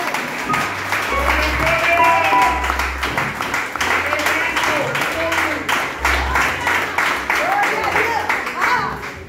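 Church congregation applauding during an evangelical service, a sustained wash of hand claps with voices and music mixed in underneath, loud and continuous throughout.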